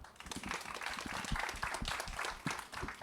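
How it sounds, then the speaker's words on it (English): Polite applause from a conference audience welcoming a speaker, a dense, steady patter of many hands clapping at moderate volume for a few seconds, with no voices over it. "so to such polite claps"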